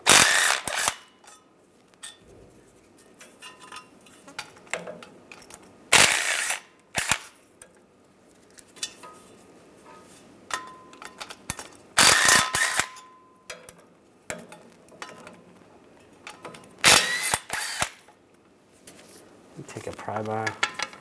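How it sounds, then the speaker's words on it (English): Ratchet with an 11mm socket removing bolts under a 2007-2013 Chevrolet Silverado, rapid clicking ratchet bursts and sharp metallic clanks in several separate spells, close, with quieter handling noise between them. "use an 11mm socket, take these bolts out"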